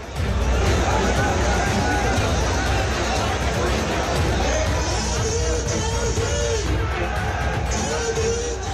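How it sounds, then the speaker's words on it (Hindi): A dense crowd packed around an election rally stage gives off a loud, steady roar of babble and shouting that holds unbroken the whole way through. "इतनी भीड़ है कि मंच टूट रहा है"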